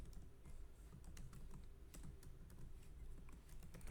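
Computer keyboard typing, a steady stream of light key clicks at a quiet level with no voice, as code is entered in a Python pandas session.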